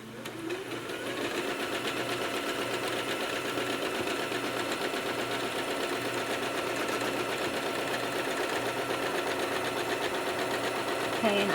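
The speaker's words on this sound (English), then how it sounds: "I need to slow my speed down so that my stitches aren't quite so long based on the pressure of my foot" A sewing machine stitches a quilted bottle tote, whirring steadily and rapidly from start to finish at an even, moderately close level after a short quieter opening.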